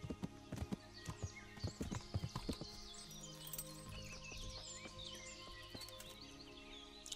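Horse hooves clip-clop in the medieval game Kingdom Come: Deliverance, a quick run of hoofbeats in the first seconds fading into steady ambient birdsong and a low game hum.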